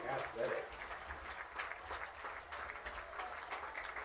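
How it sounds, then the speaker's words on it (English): Crowd applause at a high school football game on Pink Out Night, sounding distant and fairly faint, forms a steady rustling wash over four seconds with a murmur of voices mixed in. "Please join us in giving a big round of applause to Saunders Medical Center and Rachel Hall."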